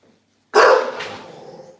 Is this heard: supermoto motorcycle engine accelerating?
no